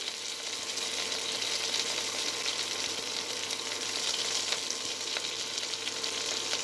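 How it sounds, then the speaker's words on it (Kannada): Curry leaves, dried red chilies and finely chopped onion fry in a pan with chana and urad dal for a winged bean palya, giving a steady, dense sizzle that holds at an even level throughout with no voices. "ಹಾಕಿ ಚೆನ್ನಾಗಿ ಫ್ರೈ ಮಾಡೋಣ"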